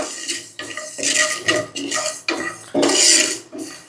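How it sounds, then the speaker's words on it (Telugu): Fenugreek seeds are roasted on low flame and stirred in a pan, producing a run of close, uneven scraping and rattling strokes of a spoon against the metal. "వీటిని మనం లో ఫ్లేమ్లో పెట్టుకొని దోరగా వేయించుకోవాలి"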